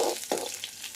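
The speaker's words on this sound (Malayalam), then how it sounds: "അപ്പം നമ്മളിവിടെ കടുക് വറുക്കുകയാണ് കേട്ടോ." Mustard seeds spluttering in hot oil for a sambar tempering, a close, loud sizzle with two sharp popping bursts early on and a steady crackle running underneath.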